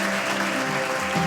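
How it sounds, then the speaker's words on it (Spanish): A church congregation applauds during a worship service, a brief burst of dense clapping mixed with tonal sound from music or voices. "Vamos a darle un aplauso al Señor"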